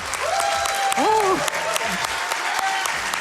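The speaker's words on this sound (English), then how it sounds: "Can we get one more round of applause" Steady applause from an audience at a speedrunning charity event, with a shrill whistle rising over the clapping and voices mixed in.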